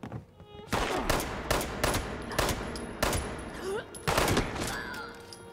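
Gunfire from a weapon in Fallout 76: a series of sharp, loud shots in quick bursts with short gaps, fired close by over a low game background.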